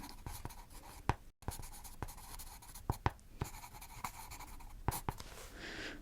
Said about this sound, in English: I'll just write that down as well.